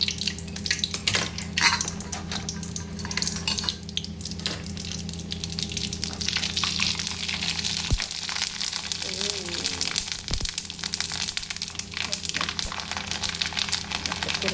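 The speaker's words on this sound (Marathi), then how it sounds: "बघू आता कुरडी कशी तळते तर बघा आता" Kurdai, dried wheat crisps, fry in hot oil with a steady close bubbling crackle, while pans clink now and then and a voice speaks over it.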